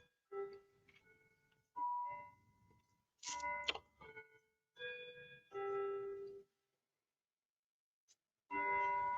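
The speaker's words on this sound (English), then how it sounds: "here's the bell chime." A bell chime sounds in a quiet room with a fan running, a series of spaced melodic tones, each ringing briefly with pauses of silence between them.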